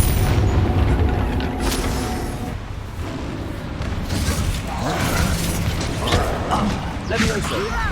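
Confringo fire spell from Hogwarts Legacy bursting in booming, crackling explosions amid game combat noise and a voice, loud and dense over several seconds.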